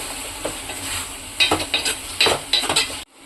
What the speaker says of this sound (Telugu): కొంచెం కరివేపాకు అలాగే మనం ఇగురు మసాలా వేసుకుని కొంచెంసేపు ఫ్రై చేసుకుని